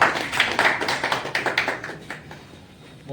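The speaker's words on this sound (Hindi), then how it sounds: "जोरदार ताली भाई साहब के लिए" Applause from an audience at an event in Delhi's Talkatora Stadium, a burst of close, rhythmic clapping that fades out after about two and a half seconds.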